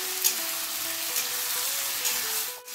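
Spice paste sizzling and frying with vegetables in a pan, a steady close crackle with some faint background music tones, no talk.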